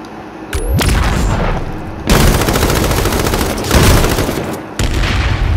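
Loud, dense bursts of automatic gunfire in the video game H1Z1, several sustained volleys with brief breaks between them, close and dominant with no talk.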